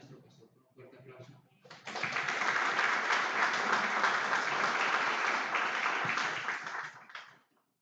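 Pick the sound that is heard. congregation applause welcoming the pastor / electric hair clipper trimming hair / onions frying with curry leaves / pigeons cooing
congregation applause welcoming the pastor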